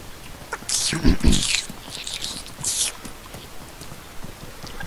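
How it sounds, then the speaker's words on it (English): Close crinkling and crackling rustles over a gaming headset mic, like unwrapping packaged cheese, come in a few short bursts that fade into faint background noise. "It sounds like you're unwrapping, like, packaged cheese over the mic."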